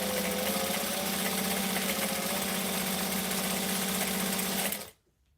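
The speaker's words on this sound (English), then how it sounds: "I'm going to stitch 1/8 of an inch from that center line that I've just folded." A sewing machine stitches steadily on a decorative stitch setting 1/8 inch from a folded center line, its fast even whirring hum running close and loud for about five seconds before stopping abruptly.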